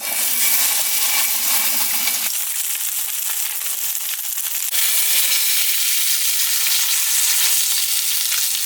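Fish, lightly salted and peppered, frying in hot oil on a propane stove aboard a sailboat: a steady, loud, close sizzle with bright crackling, shifting in intensity a couple of times but never pausing.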